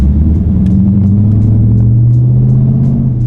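A 2017 Dodge Challenger R/T with a 5.7L V8 and mid muffler delete rumbles loud and close, a steady deep exhaust drone with the pitch slowly rising as the engine pulls under light throttle.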